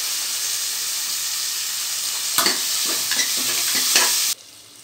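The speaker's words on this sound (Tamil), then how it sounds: "அடுத்து நம்ம தக்காளியை போட்டுக்குவோம். தக்காளியும் நல்லா வணக்கிக்கலாம்." Onions and tomatoes sautéing in a pan for a goat head curry, a steady loud sizzle with a few clinks and stirring scrapes near the end before the frying noise drops away.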